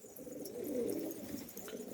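Pigeons cooing softly in a low, throaty warble, steady and fairly close, with faint background ambience and no talking.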